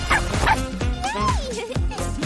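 Puppy whimpering and yipping in a pet-rescue video game, close and fairly loud, with short yelps and a rising-falling whine repeated a few times over a thin backdrop.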